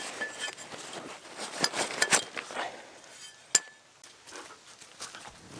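A new cast iron frying pan is handled at a woodland fort, giving scattered metallic clinks and knocks, a few sharper taps standing out over quiet background, with no talking.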